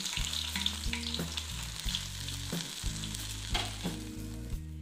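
Bread slices frying in hot oil with a steady, close sizzle and bubbling that runs throughout, broken by a few light clinks and scrapes.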